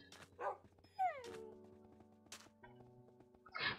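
Pet dogs in a Minecraft survival game give a few short yips and barks between quieter stretches, set against game music and ambient tones.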